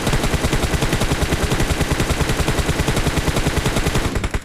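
Rapid automatic gunfire in the BGMI battle royale game as enemy players are knocked down, a dense, loud, continuous stream of shots that breaks off in the final half second.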